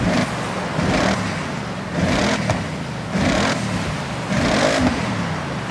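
An Audi RS6 with a 4.2 litre twin-turbo V8 on its stock exhaust in the video game Forza Horizon 6, revving in four distinct, evenly spaced bursts over a continuous idle rumble, close and loud.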